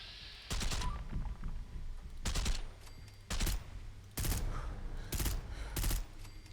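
An AEK-973 rifle in Fallout 4 fires in short bursts, six separate volleys of rapid gunfire coming loud and close with brief pauses between them.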